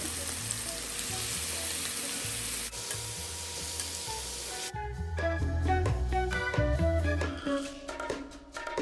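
Meat and mushrooms sizzle and fry in a pan at close range, with a steady hiss that gives way to clatter and scraping from stirring.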